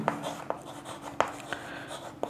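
Pen or chalk strokes while working out a Class 6 percentage math problem, a handful of short scratchy taps and scrapes spaced irregularly, close and fairly quiet with no talk over them.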